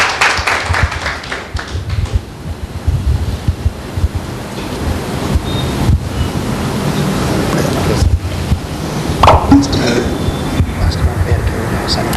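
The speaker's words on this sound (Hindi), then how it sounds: "एक जोरदार ताली देंगे परमेश्वर की महिमा में" A church congregation applauding loudly: a dense, sustained wash of clapping that runs steadily throughout, with voices mixed faintly into the roar.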